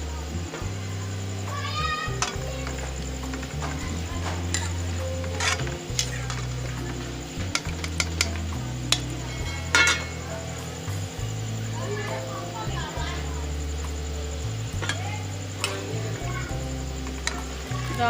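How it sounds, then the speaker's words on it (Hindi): Red lentils are added to a pot of about a litre of heated water, and utensils clink against the pot in scattered, close taps over a steady background hiss. "अब मैं इसमें दाल शामिल कर रही हूँ।"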